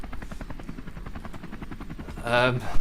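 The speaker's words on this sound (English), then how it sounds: "Don't know if you can hear me over this loud helicopter." A helicopter's rotor chops in a rapid, steady pulse close by, loud throughout, with a person's voice talking over it and a brief louder burst near the end.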